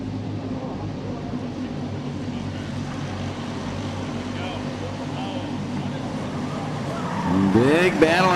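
Racing karts circle the Whiteland Raceway Park track during a CKNA North race, their engines a steady buzzing drone under a commentator's voice, with a louder kart sweeping past nearby at the end.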